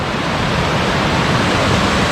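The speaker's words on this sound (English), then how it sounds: "Oh, that's a good old waterfall down there." A waterfall in Killarney Provincial Park roars as a steady broadband rush of falling water, loud and unbroken, with no voices.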